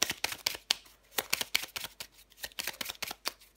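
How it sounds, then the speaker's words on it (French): A deck of cards being handled and drawn for a tarot-style reading, with a quick run of crisp papery snaps and riffles, close and alone, with no voices. "Allez, je prends encore une carte."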